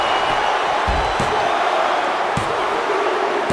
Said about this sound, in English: The WWE Universe is on its feet.